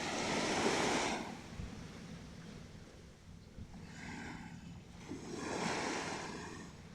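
Broad rushing surges of sea waves rise and fall, one crashing wash followed by quieter swells and another building wave, with wind noise over the microphone.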